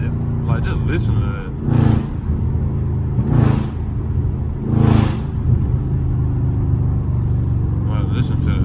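A Dodge Scat Pack's engine rumbles steadily during a late-night drive, with three loud revving surges spaced a couple of seconds apart and crackling exhaust pops, while someone talks excitedly over it.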